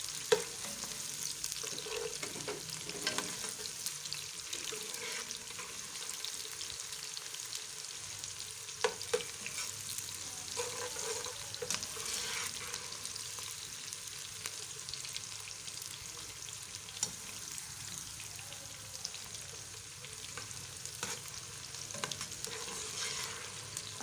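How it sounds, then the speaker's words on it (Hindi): Onions frying in a pan for a potato, pea and fenugreek vegetable dish, with a steady soft sizzle and repeated scraping stirs throughout, close and continuous with no talking. "प्याज को सुनहरी करना है"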